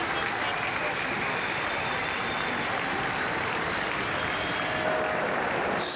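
Large crowd applauding and cheering at Rosehill Gardens horse races in Sydney, a steady dense roar of clapping that holds evenly throughout without letting up.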